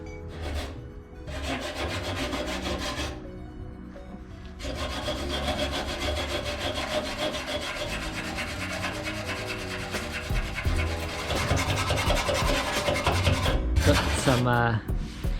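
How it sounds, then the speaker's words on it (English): Steady rasping strokes scrape across a wood surface, long continuous passes broken by a couple of brief pauses, close and fairly loud throughout with no talk. "Got some more scraping assistance today."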